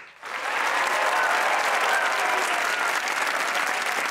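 A studio audience at a comedy talk show breaks into loud, steady applause that starts suddenly and holds at full strength throughout.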